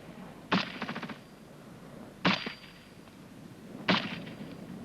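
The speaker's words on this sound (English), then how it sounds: "Scrub immediately to your front. Rapid! Fire!" British Army infantry section firing rifles and a machine gun at scrub to the front: three sharp, loud bursts roughly 1.7 seconds apart, each with a quick rattling tail of echoes.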